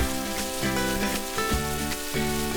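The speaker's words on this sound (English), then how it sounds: "Fry this for about a minute again." Goan beef patty filling, seasoned with Goan vinegar, sizzles and crackles steadily in a pan, with a few soft stirring scrapes breaking up the continuous frying noise.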